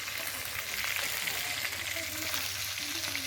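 Bhetki fish sizzles in hot salted oil in a wok over a wood-fired stove, a steady close crackling fry with bursts of spitting throughout.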